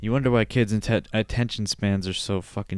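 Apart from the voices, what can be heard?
No everyday noises stand out.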